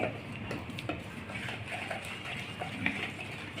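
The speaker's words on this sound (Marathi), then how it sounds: "बेसनचं पीठ छान तुम्ही हलवून घेऊ शकता. गुठल्या सगळे काढून घेणे." Besan batter for jowar rava uttapam being stirred in a bowl, with faint, repeated clinks and scraping taps of a spoon against the side.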